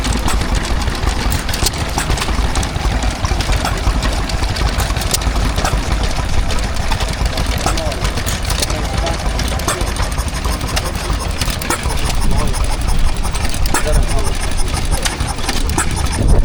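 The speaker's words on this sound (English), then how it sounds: "this is a United Engine Company Type F, running an Amanco water pump" A United Engine Company Type F stationary engine driving an Amanco water pump, a steady, close mechanical chugging and clatter running continuously under loud outdoor show ambience, with people talking nearby.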